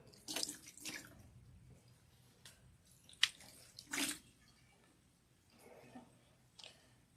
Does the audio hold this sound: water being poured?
yes